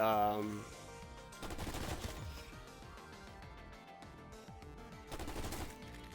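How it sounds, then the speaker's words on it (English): A PU-21 light machine gun fires in the Black Ops 6 video game, with loud sustained automatic bursts near the start and again toward the end, and a busy mix of game effects in between. "Now the PU-21, who knows what this is? It's unlocked by default, and these are LMGs."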